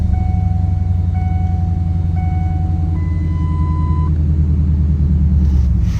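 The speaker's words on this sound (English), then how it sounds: "the MagnaFlow exhaust system sounds really good" A 2003 Ford F150 SVT Lightning with a MagnaFlow aftermarket exhaust idles with a deep, steady grumble, while a series of short electronic chime tones sounds over it.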